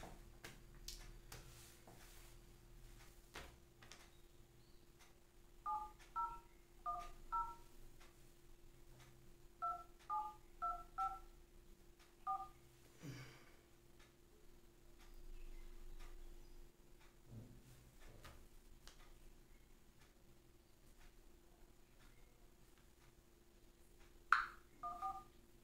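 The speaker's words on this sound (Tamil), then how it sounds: "அவருக்கு நம்ம ஃபோன் போட போகிறோம்" A telephone number is dialed on a keypad, clusters of short beeping tones in quick rhythmic groups, faint against a quiet hum with sparse clicks, followed by a single louder tone near the end.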